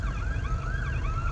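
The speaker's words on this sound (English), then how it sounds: "Ambulance are coming." An ambulance siren wails in a loud, continuous wavering tone over the low rumble of surrounding traffic.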